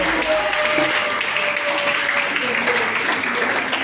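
A church congregation applauds and cheers in steady, dense clapping that fills the space, with raised voices and crowd noise running underneath throughout.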